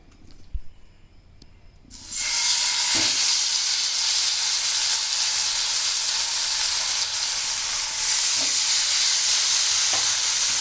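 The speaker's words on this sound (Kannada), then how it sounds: "ಇವಾಗ ಇದು ಹೀಟಾಗಿದೆ, ಫ್ರೈ ಹಾಕ್ಕೊತೀನಿ. ಫ್ರೈ ಮಾಡೋದಕ್ಕೆ ಮೀನು" Jilebi fish dropped into hot oil for frying, a large whole fish, bursting into a loud, steady sizzle after a quiet start, with a few faint clinks underneath.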